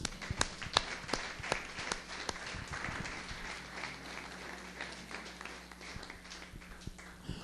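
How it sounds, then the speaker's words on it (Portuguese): Church congregation applauding during a worship service, a moderate burst of clapping with some sharp individual claps early, then a softer, uneven patter over a low steady hum. "A Ele uma salva de palmas."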